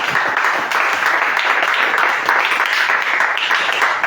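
A church congregation applauding and cheering during a worship service, sustained dense clapping mixed with voices that holds steady throughout at close range.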